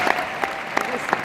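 A short burst of audience applause at a François Fillon political speech, moderately loud with scattered sharper claps.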